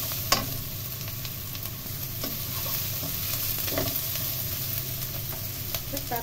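Rice vermicelli and seafood stir-fried in a hot pan, a constant oily sizzle broken by scraping spatula strokes and clacks against the metal, close and clear.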